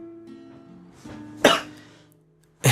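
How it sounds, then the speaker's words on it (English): A person coughing in a short fit: a quiet throat sound, then one loud harsh cough, and a second loud cough after a pause. "I had a slight coughing fit"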